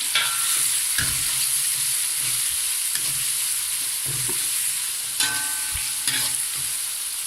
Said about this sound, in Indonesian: Bumbunya kita goreng sampai baunya wangi.